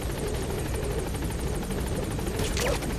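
A helicopter in the video game Metal Gear Solid 5 gives off a steady rotor thump, loud and continuous, with a brief sweeping whoosh near the end and no talking.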